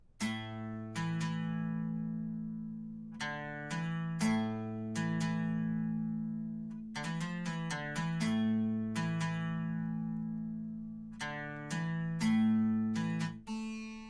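A sampled acoustic saz plays a bright, twangy phrase of quick notes and repeated plucks over a droning low note, dry and close with no voices.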